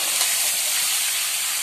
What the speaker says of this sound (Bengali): এবার মশলার সঙ্গে একটু কাঁটাগুলো কষিয়ে নেব